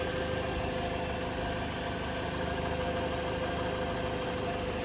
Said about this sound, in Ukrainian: Двигунчик працює ідеально, без всяких звуків, шумів.